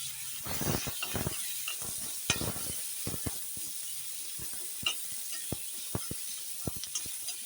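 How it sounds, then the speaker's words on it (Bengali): Whole garlic cloves fry in oil in a pan, giving a faint crackle and hiss broken by scattered clicks and spoon taps against the pan, fairly quiet and without talking. "গোটা রসুন দিয়ে দিলাম একটু ভালো করে ভেজে নেবো"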